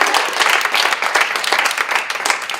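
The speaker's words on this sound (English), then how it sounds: "we will still give her a round of applause" A student senate meeting audience gives a round of applause for an absent member, loud, close, brisk clapping from a room of people with individual claps standing out, continuous throughout.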